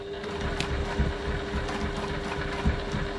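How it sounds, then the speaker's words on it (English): A sewing machine stitches a bag panel up to a marked point with a steady, continuous mechanical whir and a faint hum, close by and alone, with no voices. "Stitching up to my mark."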